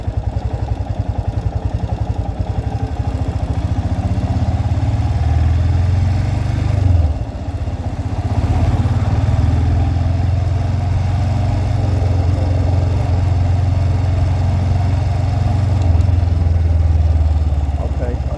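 A Royal Enfield Himalayan motorcycle thumps along with a steady low, loud single-cylinder drone while riding around town, briefly easing off midway before pulling on again, with a voice talking over the engine.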